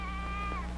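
A sheep bleats once, a wavering drawn-out cry held steady and fairly close, over a constant low hum with no talking.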